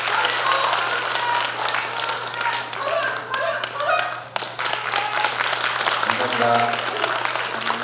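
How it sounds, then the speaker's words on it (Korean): An audience at a Democratic Party district delegates' convention gives steady, dense applause throughout, with a voice briefly speaking over it. "큰 박수로 부탁드리겠습니다"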